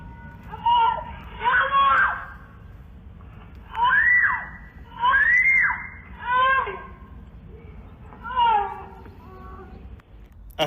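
A young child, just shot, screams and wails in several long, anguished bursts with short pauses between them, played back from a video over a low background hum.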